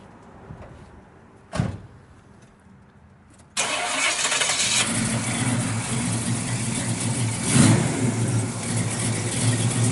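A 1972 Pontiac GTO LeMans with an aluminum-headed 400, Edelbrock heads, roller cam and MSD ignition cranks and fires, then settles into a loud, steady, rumbling idle with a brief rev swell near the end.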